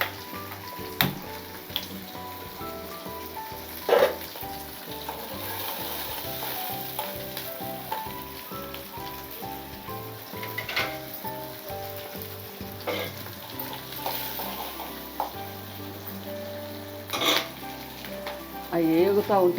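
Coriander seeds and other ingredients frying in a kadai on a stove, giving a continuous close sizzle with occasional stirring clatter and a steady background hum over about twenty seconds.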